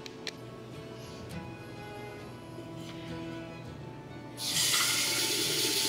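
Lukewarm water runs from an indoor tap for watering houseplants, a quiet trickle that suddenly surges into a loud, steady rushing stream near the end, with no talk.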